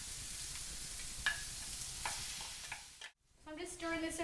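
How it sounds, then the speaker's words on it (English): Chicken sizzles steadily in hot sesame oil in a pan, with occasional scraping as it is stirred; a brief gap near the end, then sizzling resumes. "So these are sizzling."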